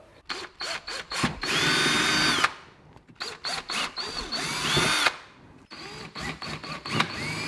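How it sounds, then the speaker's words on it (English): A power drill whirs in repeated bursts, revving up and down as it bores mounting holes for mud flaps on a Suzuki Jimny JB74, loud and close with short pauses between runs. "drill out these 2 holes where the crosshairs are marked with a smaller drill bit"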